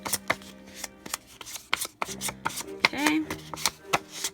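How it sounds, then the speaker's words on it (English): Sheet of paper being crumpled and roughed up by hand for a handmade Halloween card, a series of sharp crinkling scrunches and taps close by, with a brief spoken word. "I'm just banging this paper up"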